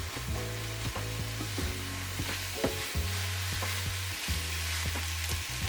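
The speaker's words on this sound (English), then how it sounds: "Add oyster sauce and stir fry" Ground beef and rice being stir-fried in a pan with soy sauce, garlic and oyster sauce: constant loud sizzle under rhythmic clanking and scraping of a utensil tossing the mixture, close up, no speech.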